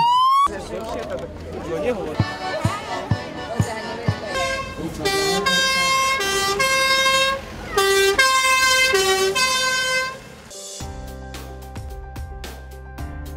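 A fire truck sounds its siren and horn during a simulated firefighter rescue demonstration at a town celebration, a loud wailing and tooting tone with repeated bursts, mostly alone with a brief lower rumble near the end.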